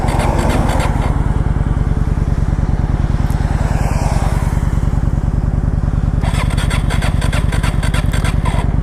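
A Kawasaki Vulcan 900 motorcycle engine runs loud and close with a steady, throbbing idle and rough revving, continuous throughout with no pauses.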